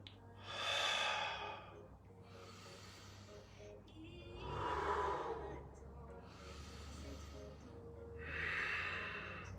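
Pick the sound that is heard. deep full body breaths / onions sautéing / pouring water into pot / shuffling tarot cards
deep full body breaths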